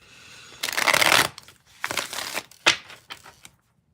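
A deck of cards being shuffled close up, several quick riffling bursts and taps separated by short pauses, with no one speaking.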